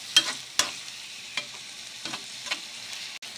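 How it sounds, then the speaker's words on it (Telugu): Onions and tomato pieces frying in a pan for a potato and beans curry, with soft sizzling and a handful of sharp spatula scrapes and clicks as they are stirred, close and quiet, no talk. "ఈ విధంగా మనకి ఉల్లిపాయలనే వేగుతూ ఉన్నప్పుడు ఇందులో మనం తరిగిపెట్టిన టమాటా ముక్కలు కూడా మనం వేసుకుని వాటిని కూడా మనం వేయించుకుందాం"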